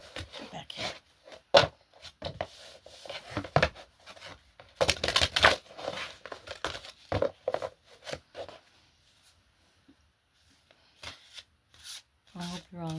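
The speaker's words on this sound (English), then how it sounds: "I need to finish shuffling." Oracle cards are shuffled by hand in bursts of soft riffling and rubbing, close and fairly quiet, with brief pauses, a lull near the end and a voice speaking at moments.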